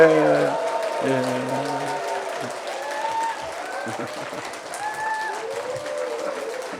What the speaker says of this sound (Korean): 영광의 박수 올려드리면서